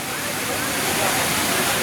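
The Hogenakkal waterfall roars in a dense, loud, unbroken rush of falling water that fills the whole scene from start to finish, with no clear talking over it.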